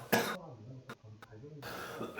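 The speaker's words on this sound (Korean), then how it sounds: "기침을 심하게 하네요." A single short throat-clearing cough sounds up close, followed by two quick faint coughs, quiet and brief, with a voice speaking briefly before and after.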